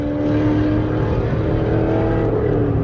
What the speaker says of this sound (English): That looked like a Ferrari or something that just decided he didn't want to go 5 miles over the limit.